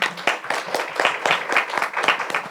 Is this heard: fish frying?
no